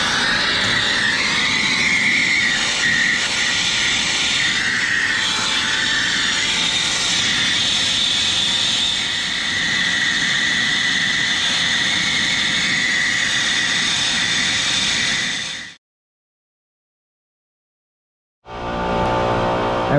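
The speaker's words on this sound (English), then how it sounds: "Here's my MC tank using acetylene gas." An acetylene torch brazing a refrigerant leak on an industrial chiller gives a loud, steady hissing roar up close, then cuts off abruptly and restarts.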